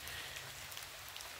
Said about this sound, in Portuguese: chovendo aqui